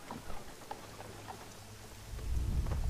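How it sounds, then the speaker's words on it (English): Rain patters and a low thunder rumble swells in an Assassin's Creed III game scene, with soft wet drops throughout and the deep rolling thunder growing louder toward the end, with no talking. "Ah, it's raining."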